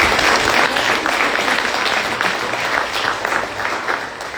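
A church congregation applauds together, a dense steady clapping that stays loud throughout and eases only slightly toward the end, with no talk over it.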